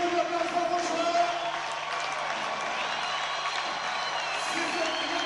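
Steady applause from an audience greeting a hockey player at a championship medal ceremony, with light cheering mixed in and some background tones.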